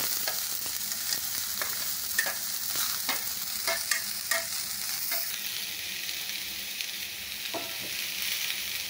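Sliced onion, potato and carrot sauté together in a pan, giving a soft continuous sizzle with light stirring clicks and scrapes scattered across it, no voices.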